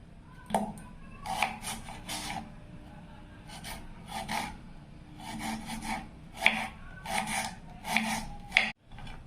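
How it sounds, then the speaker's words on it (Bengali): A knife cuts onions and tomatoes on a board, making close, crisp slicing and scraping strokes in irregular bursts with short pauses between them. No one speaks. "কাবলি ছোলা আর আলুটা সেদ্ধ হতে হতে আমি পেঁয়াজ আর টমেটো কাটিয়ে নেব"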